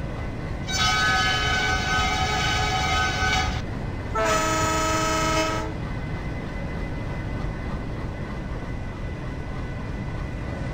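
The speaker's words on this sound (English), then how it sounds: "right now our train just running with 56 kilometers per hour" A WDM3D diesel locomotive in the Railworks 3 Train Simulator game runs with a steady rumble, sounding two loud horn blasts, the first about three seconds long and the second shorter after a brief gap.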